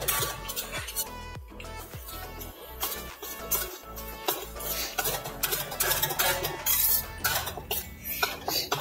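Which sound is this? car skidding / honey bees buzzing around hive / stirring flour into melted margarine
stirring flour into melted margarine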